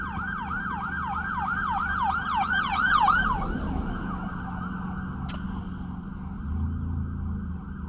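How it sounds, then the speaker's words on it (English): An ambulance siren wails in rapid rising and falling sweeps, loud and close at first, then fading away as it passes, leaving low road traffic rumble behind. "wait for the ambulance."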